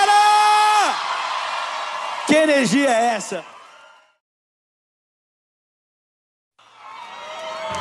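A sertanejo concert crowd cheers with whoops and yells over a loud, ringing voice. After a short silence, the crowd's roar swells back in.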